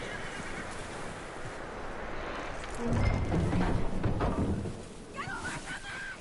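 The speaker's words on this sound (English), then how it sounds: "That looks like a decent horse. You should keep him." A horse in the video game Red Dead Redemption 2 whinnies near the end, a short wavering neigh over game ambience, after a thudding burst of movement midway.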